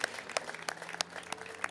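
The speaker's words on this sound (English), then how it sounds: "got a round of applause for Miriam" Audience applause for Miriam Kushner at a mayoral launch event for the Mid-City Rapid 215 bus service, a brief burst of scattered hand claps from a small crowd, fairly close and moderately loud.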